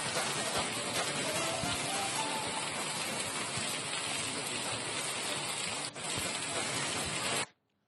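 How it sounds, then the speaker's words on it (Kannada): Heavy, continuous monsoon rain in Chikkamagaluru, a dense, steady hiss of downpour at an even level for about seven seconds before it cuts off abruptly. "ಬಿಟ್ಟು ಬಿಡದೆ ಮಳೆ ಸುರಿತಾ ಇರೋದು ಯಾವ ರೀತಿ ಇದೆ ಅಂತ ಹೇಳಿ"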